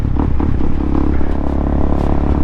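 A Honda Grom motorcycle engine running and revving nearby, a loud continuous rough drone with a steady rumble and no speech over it.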